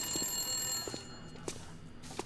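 A telephone rings in The Long Dark, a first-person survival game, a sustained ring trailing off into intermittent sharp clicks and knocks over a quiet ambient background.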